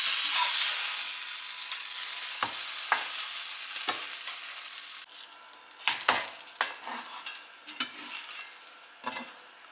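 A grilled cheese sandwich frying in olive oil in a pan over medium-high heat, with a loud hiss at first that settles into steady sizzling, broken by several scraping and stirring sounds close up.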